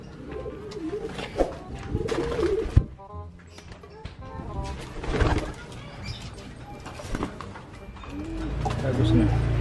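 Domestic pigeons, including butterfly pigeons, coo repeatedly nearby in throaty, rolling courting calls, with a few sharp clicks and some rustling throughout.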